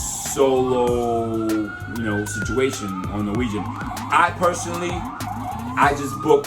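Wailing emergency vehicle sirens from ambulances and fire engines on a Manhattan street rise and warble loudly beneath a person talking, with traffic noise filling the background.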